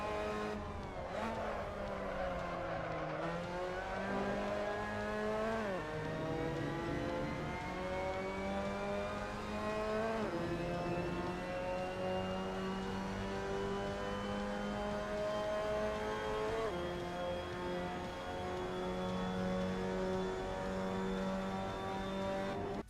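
A Mazda MX-5 Cup race car in the racing game Assetto Corsa at the Assen circuit howls through continuous engine revs, pitch dropping under braking into turns and climbing steadily on the following straight, with no voices.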